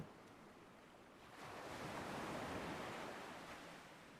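Ocean waves roll in as a soft, steady wash of surf that swells into a fuller surge midway, then eases back, quiet and fairly distant, with no voices.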